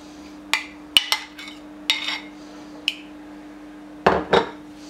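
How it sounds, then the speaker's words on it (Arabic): A spatula stirs whipped cream into an ice cream mixture in a bowl with circular strokes, giving a series of short clinks and scrapes against the bowl at an irregular pace, with a louder pair of knocks near the end. "وانايا نخلط هكا بلا سباتول وندير حركات دائريه"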